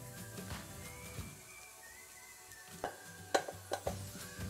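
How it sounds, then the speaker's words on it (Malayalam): Spiced vegetable cutlet mixture being stirred in a pan: a soft background hiss and scraping, then several sharp clinks of a spoon against the pan near the end. "നന്നായി ഒന്ന് മിക്സ് ചെയ്യാം"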